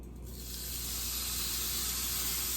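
Burger patties sizzle in hot oil in a pan, a bright, loud hiss that builds within the first half second and then holds steady and close, with no talking.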